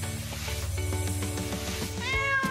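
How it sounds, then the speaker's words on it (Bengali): A cat meows near the end, a rising, wavering cry heard over a low droning, rhythmic background. "আমি মিয়াও আওয়াজ শুনতে পাচ্ছি।"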